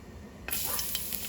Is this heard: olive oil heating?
yes